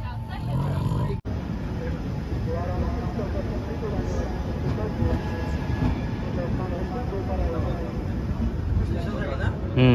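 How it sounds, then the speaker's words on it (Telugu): A passenger train near Varanasi station rumbles steadily along the rails with a continuous low roar, while people talk nearby throughout. "అదే మన ట్రైన్ అదే అనమాట"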